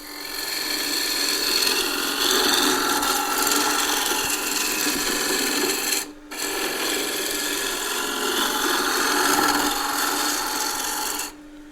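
A roughing tool making a peeling cut on spinning wood on a lathe, a continuous loud rasping hiss broken by one brief pause and stopping at the end, with no talk.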